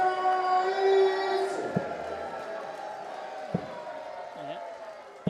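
Darts crowd at the WDF Lakeside World Championship roaring after a maximum 180, a broad sustained wash of cheering with a few sharp bangs cutting through as the noise slowly fades.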